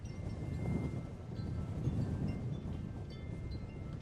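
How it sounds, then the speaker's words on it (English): Low, rumbling wind buffets the microphone in steady gusts in Vilcabamba, Ecuador, a muffled roar with no voices heard. "It's pretty windy."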